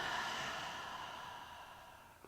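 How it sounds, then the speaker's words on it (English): A slow, steady exhalation through the open mouth during a guided yoga breathing exercise, a soft breathy rush that gradually fades over about two seconds, close and quiet with no talk. "Open your mouths and exhale."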